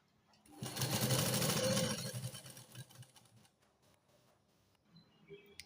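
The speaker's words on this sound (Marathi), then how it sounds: "ही खाली घेराला मी शिलाई घालून घेत आहे" A sewing machine stitches the lower hem of a simple kurti top in a loud, fast mechanical whirr lasting about a second and a half, then fades into softer handling clicks.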